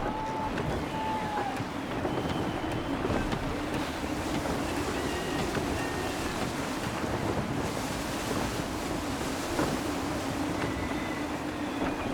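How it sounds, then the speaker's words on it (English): Gusty wind blows while a sailing ship moves through the water in Assassin's Creed III, a steady rushing roar with creaking and rumbling beneath it and occasional faint tones and voices in the mix. "Gusty winds can be difficult to manage."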